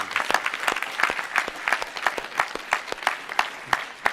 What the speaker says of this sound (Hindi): आनंद के लिए तो जोरदार ताली बजाओ।